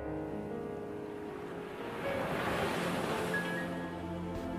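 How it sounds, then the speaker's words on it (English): Ocean waves wash and surge steadily against a background of wind, a continuous rolling surf that swells slightly louder partway through, with no voices. "Water."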